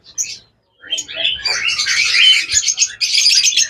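A pair of blue Fischer's lovebirds chirps and tweets in quick, busy bursts, close and fairly loud, with a brief pause near the start before the calls run on continuously.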